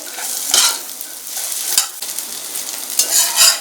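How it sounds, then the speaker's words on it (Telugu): Pre-fried chicken pieces are stir-fried into fried rice in a hot pan, a loud steady sizzle broken by a few sharp spatula scrapes and knocks on the pan. "ముందుగా ఫ్రై చేసుకున్న చికెన్ ముక్కలను కూడా విందులో వేసేసుకోండి ఇప్పుడు ఈ రెండు కూడా బాగా కలుపుకోవాలి"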